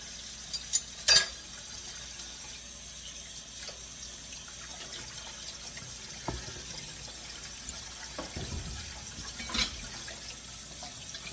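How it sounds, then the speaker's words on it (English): A kitchen tap runs steadily while a knife is rinsed off under it, a continuous close wash of water with a few brief clatters near the start and a faint knock later, no voices. "Let mine drain just a minute while I clean my knife off."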